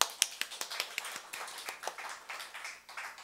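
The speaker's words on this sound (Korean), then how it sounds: "박수 한번요" Church congregation claps in a steady rhythm, the evenly spaced beats fairly faint and a little distant, then loosening into softer, irregular claps.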